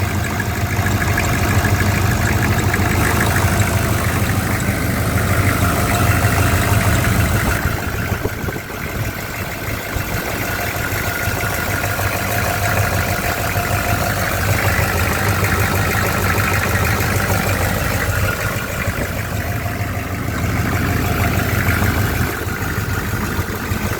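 A 1994 Chevy Silverado 1500 with a 6.5-liter diesel engine idles steadily and loudly at close range, a continuous low rumble with a slight dip in intensity partway through, and no talking.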